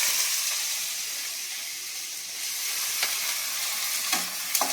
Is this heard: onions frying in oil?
yes